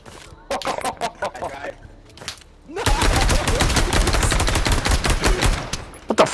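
Rapid bursts of gunfire from the Pavlov VR shooter game, played on PSVR2 in a Trouble in Terrorist Town round; a few sharp shots under talk early, then a loud dense volley of overlapping shots.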